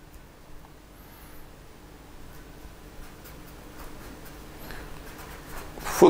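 Chalk or marker scratches across a classroom board during a biology lesson, faint and steady strokes in quiet room tone, ending in a louder burst.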